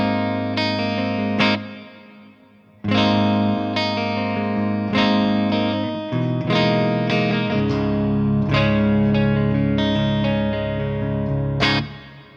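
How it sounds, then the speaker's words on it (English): A clean electric guitar tone through an H&K Triamp MKIII amplifier with reverb added: strummed chords ring out in several sustained phrases, each decaying into a wash of echo, loud and alone. "Let's go ahead and add a little bit of reverb to that."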